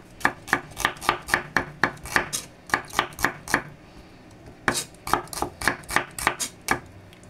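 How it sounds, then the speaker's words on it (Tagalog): Knife chopping an onion into wedges on a board, with sharp, evenly spaced strikes in a steady rhythm, a short pause, then another run of chops, heard close and clear without talk. "Normal na hiwa lang yan sa sibuyas."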